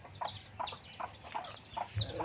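Backyard chickens cluck in short, repeated bursts, several low clucks and calls spaced about half a second apart, close and moderately quiet.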